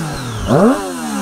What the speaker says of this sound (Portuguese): E o ronco, olha o ronco dessa moto, ó.